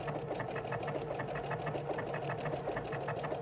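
A sewing machine stitches a decorative Madeira applique stitch without a wing needle, its steady rapid needle rhythm running continuously and close up with no talk.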